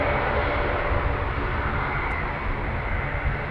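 A Kuwait Air Force KC-130J turboprop landing at Cambridge Airport produces a steady, dense broadband roar that holds at an even, loud level throughout, with no voices.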